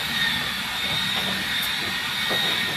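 Kuchenluxe turbo broiler running while cooking lechon belly at 200 degrees, a steady whirring fan hum with a faint high whine, constant and close.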